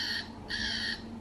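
A motion-activated Halloween toy crow gives two harsh, buzzy electronic caws back to back, close and loud, with a short gap between them and no talk.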